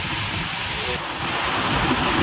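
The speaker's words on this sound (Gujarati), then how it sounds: "રસ્તામાં ધોધમાર વરસાદ" Heavy rain pours down on a road in a steady, dense hiss of wideband noise, loud and unbroken across the short stretch.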